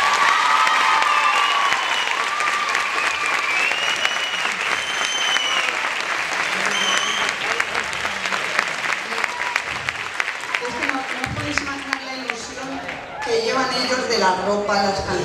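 Sustained, dense applause from an audience honoring dance students at a dance school show, loud and steady throughout, with voices and cheering mixed into the crowd noise.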